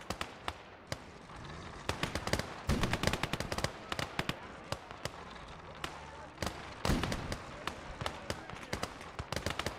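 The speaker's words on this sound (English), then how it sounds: "They're firing an anti-tank gun at me, aren't they?" Rapid cannon blasts and gunfire in a video game, an anti-tank gun shooting at a vehicle amid dense bursts of shots and explosions, with someone talking over the action.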